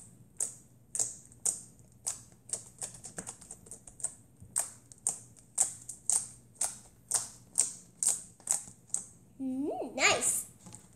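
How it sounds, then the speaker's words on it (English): Slime squeezed by hand makes a steady run of sharp, crisp clicks and pops, roughly two per second, fairly close, with a brief squeaky burst at the end. "Let's try to make, like, a clicky noise."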